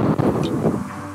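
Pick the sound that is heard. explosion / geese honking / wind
wind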